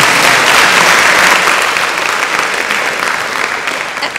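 Loud, dense applause from an audience at the JA-YE Company of the Year Competition in Tallinn, Estonia, a sustained roar of clapping that tapers slightly toward the end.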